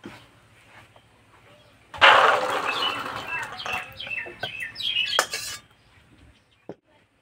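Boiled chickpeas are tipped from a vessel into a pot while cooking chana masala, making a loud wet clattering rush that lasts several seconds and then gives way to a single late knock.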